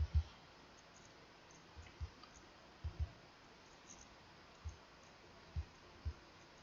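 Computer mouse clicks during vector drawing work in Inkscape, about ten sharp, sparse clicks at uneven intervals, some in quick pairs, over a quiet room hiss with no talking.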